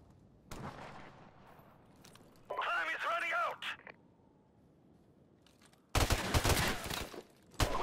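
Gunfire in a multiplayer shooter video game, coming in two loud bursts, a short one near the start and a dense crackling volley at the end, with voices chatting in the gap between them.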